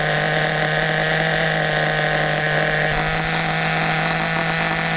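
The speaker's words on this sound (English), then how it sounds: "Let's lower the idle a little more." A nitro engine in an HPI Super Nitro RS4 RC car idles steadily close by, a continuous buzzing drone with a high whine that holds evenly throughout, no voices over it.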